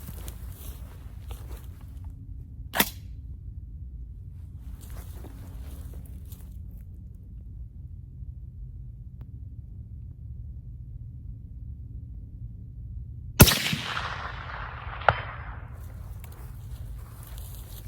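A scoped rifle fires at a target 400 yards away outdoors. One sharp crack comes early, another loud report follows late with a rolling echo and a smaller crack after it, all over steady wind rumble.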